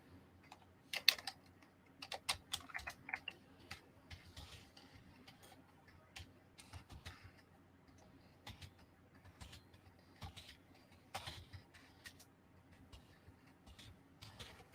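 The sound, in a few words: typing on a computer keyboard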